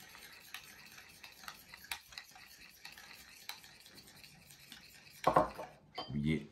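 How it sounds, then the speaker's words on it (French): A spoon stirs balsamic vinegar and mustard in a bowl, making soft, quiet scraping and clicking strokes, then a couple of louder clatters near the end; no one speaks. "On remue."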